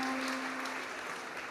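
An audience at a healing service in Martinique claps in a short, steady burst of moderate applause with a faint hum under it.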